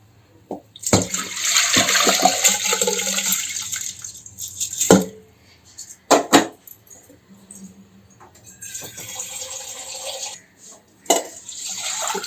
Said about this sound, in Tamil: தண்ணி ஊற்றிக்கிறோம்